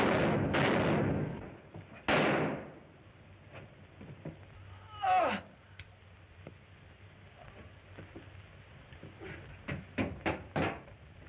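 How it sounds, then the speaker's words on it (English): Several sharp gunshots ring out in a tense confrontation, a cluster of loud cracks early on, then a flurry of quicker, fainter shots near the end, with quieter thuds between. "what were those shots?"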